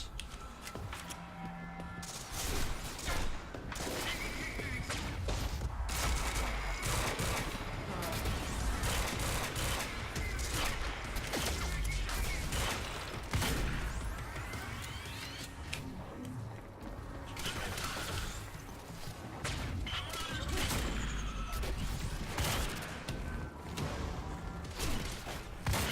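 Gunfire from the video game Quantum Break, with dense, continuous bursts of shots and impacts over a steady bed of game sound for the whole stretch, with a voice talking intermittently over it.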